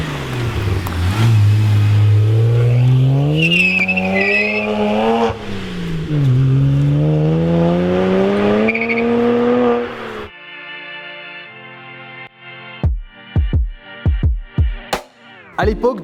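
A Ferrari 360 Spider engine revs hard for about ten seconds, its loud note sweeping up and down through repeated pulls, before the sound cuts abruptly to quieter music-like tones with sharp plucked hits.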